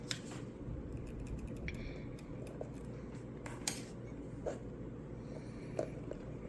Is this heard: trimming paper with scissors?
yes